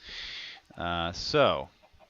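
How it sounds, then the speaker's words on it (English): Minecraft chickens give short clucking calls in a farm build, a few quick bursts close by and fairly loud, with nothing else heard. "I'm just going to knock all these chickens out of here so I can get started"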